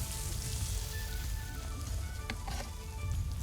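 Oysters boiling in their shells on a charcoal grill, a close, continuous crackling sizzle with scattered sharp pops and spits and no talking.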